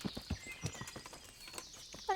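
Horse hooves clip-clop in a video game, a short run of distinct, moderately loud steps at an irregular walking pace, with a brief higher-pitched tone near the end.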